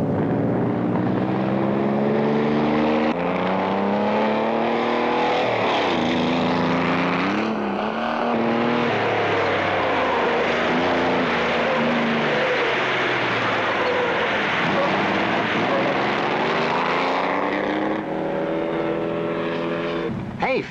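Loud, continuous engine roar with rising and falling revs, several air-cooled Volkswagen Beetle engines buzzing together as the cars race off-road nearby in Riverside, California, steady throughout.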